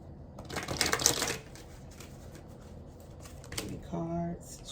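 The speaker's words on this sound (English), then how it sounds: "I'm going to pull 3 cards from the Energy Oracle." Energy Oracle cards being shuffled and drawn, a quick burst of riffling card flutter followed by softer handling clicks, with a voice speaking nearby.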